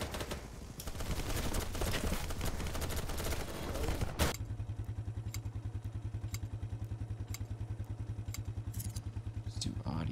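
Gunfire in the game Battle Bits Remastered: a dense, loud burst of shooting and clatter for several seconds, then a rapid, steady automatic weapon rattle continuing under occasional sharp cracks, with voices talking over it.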